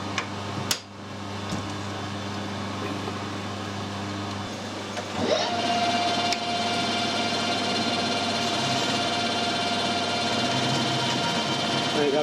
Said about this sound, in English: That's actually machining it instead of just rubbing it off.